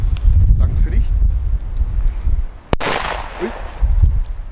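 A single sharp firecracker bang from a German D-Böller bought at Netto, holding 1 gram of Komet flash powder, goes off outdoors on New Year's Eve amid steady wind and low background murmur.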